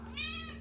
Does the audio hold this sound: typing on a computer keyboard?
no